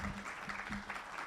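Short burst of audience applause for a panel at a real estate awards conclave, steady dense clapping throughout.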